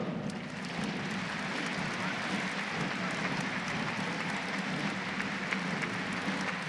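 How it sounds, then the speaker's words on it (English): Crowd applause at a Remembrance Day parade in Saskatoon, steady and continuous throughout as cadet units march past, a broad even wash of clapping with a voice faintly audible beneath. "as each organization or military unit is announced, the crowd is full of applause"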